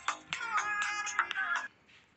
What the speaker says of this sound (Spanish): Mira, te están llamando